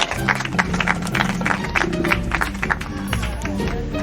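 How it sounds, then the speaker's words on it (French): Clapping from an audience at a social centre gathering, a lively burst of sharp, close hand claps running throughout while a voice talks over it. "Un tonnerre d'applaudissements."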